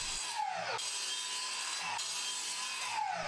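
A hand saw cuts through a plywood board in steady back-and-forth strokes, rasping and continuous, close by with no talking.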